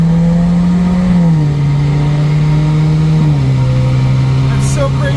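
A Subaru VB WRX with a CVT pulls hard under acceleration, a loud, steady engine drone that drops pitch in two distinct stepped ratio changes, like gear shifts, across the run.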